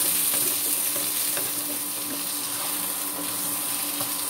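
Potato pieces frying in a pan with golden-browned onion and garlic for a tofu curry, a steady close sizzle with scraping stirring strokes throughout, no voices.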